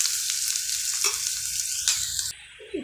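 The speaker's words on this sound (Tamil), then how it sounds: "இப்படியே கொஞ்சம் நல்லா வதக்கி கொடுத்துடலாம்." Crushed garlic and onion sautéing in a pan for rasam, a continuous close sizzle with the scrape of stirring, easing off briefly near the end.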